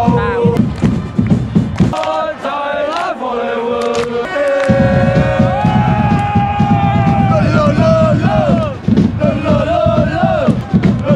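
Thai ultras football supporters cheer at a match in Vietnam, a large crowd chanting and singing in loud rhythmic unison with drum-like beats, close and sustained, with a brief dip before the chant swells again.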